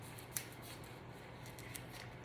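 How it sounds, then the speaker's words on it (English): Kitchen scissors snipping open a plastic ground beef container, two brief sharp cuts against a quiet room hum. "just cut the container open because I don't see the pull part."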